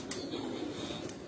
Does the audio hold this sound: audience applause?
no